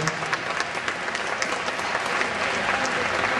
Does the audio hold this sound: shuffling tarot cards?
no